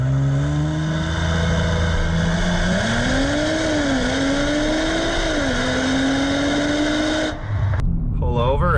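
A 2018 Audi RS5 or SQ5 engine pulls hard through a launch with traction control off, rising in pitch through two gear changes before an abrupt cut near the end.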